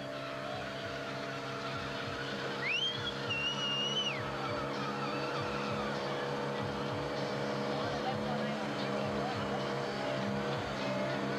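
A Ford Cortina six-cylinder roars in a sustained burnout at a club burnout event, engine note droning steadily with a brief high tire squeal, while a commentator talks over it.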